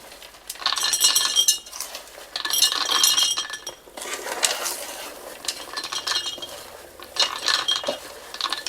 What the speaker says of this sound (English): we are going to try to put these in this cute little jar that I got from Dollar Tree